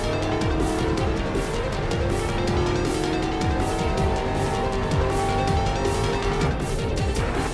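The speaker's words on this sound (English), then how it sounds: "As I say that, we start losing control of the car." A race car in GRID Legends loses grip and skids, with loud, continuous tire squeal over a roaring engine that runs steadily and close throughout.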